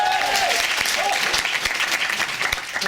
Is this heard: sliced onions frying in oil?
no